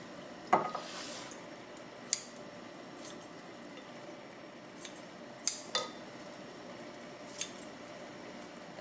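Kitchen scissors snip long strands of soaked seaweed for Korean seaweed soup, a handful of sharp, quiet clicks spaced irregularly over a soft background hush.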